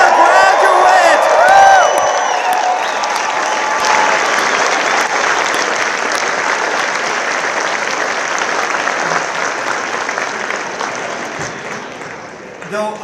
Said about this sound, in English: let us have one more big Badger round of applause for our graduates!